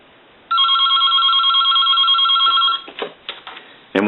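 A Pepsi Cola novelty telephone rings with one sustained electronic trill lasting about two seconds. It is loud and close, and a few brief clicks and handling noises follow.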